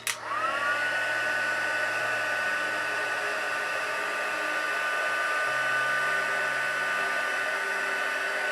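A hair dryer runs steadily for several seconds to heat set a crease, a close, constant whirring blow starting abruptly and continuing without a break.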